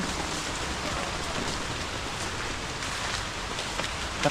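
Steady rain pours down continuously, a dense, even hiss of drops on surfaces with no pauses, loud and close, with no voices over it.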